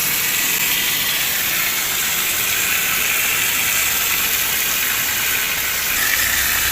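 A Mitsushi water pump with a pressure tank sprays water at strong pressure, giving a loud, steady broadband hiss that runs unbroken throughout at close range.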